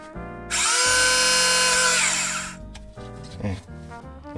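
A Tamiya electric handy drill boring a hole with a 3mm bit whines loudly and steadily for about two seconds, then winds down, followed by a few light clicks and handling knocks.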